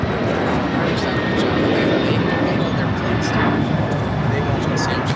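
An airliner roars down runway 25 right at LAX on takeoff, a loud broad engine rush that holds steady throughout, with radio chatter and talk over it.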